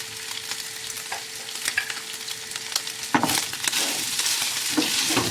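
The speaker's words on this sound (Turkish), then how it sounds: "Tereyağı bu kadar. Bir, bir yemek kaşığı. O eriye dursun." A tablespoon of butter melts in a hot pan for Ali Nazik kebab with cubed meat, giving a steady close sizzle and hiss that swells louder and brighter toward the end, with light crackles scattered through; no voices.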